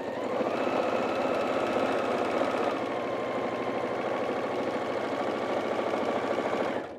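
A sewing machine stitches a self-binding quilted table runner, a fast, even mechanical whir running steadily for several seconds before stopping abruptly.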